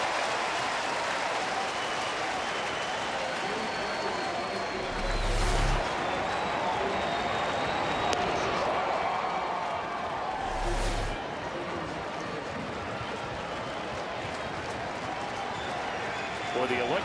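A baseball stadium crowd of nearly 27,000, almost all standing, roars in a steady, dense wash of cheering and applause, with a broadcaster talking over it.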